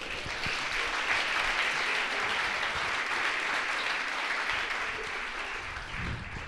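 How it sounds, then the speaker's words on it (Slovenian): A studio audience at a talk-show event claps in a dense, sustained ovation that holds steady throughout, with no speech over it. "En aplavz"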